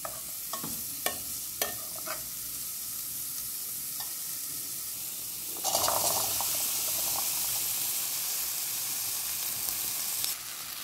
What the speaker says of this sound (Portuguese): vou estar aqui misturando tudo aqui, os temperos. E vou estar refogando.